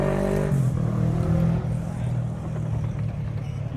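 An Aprilia motorcycle engine rumbles at a busy bike night, a steady low throb with a brief rise in pitch early on, heard close with crowd noise and voices around it.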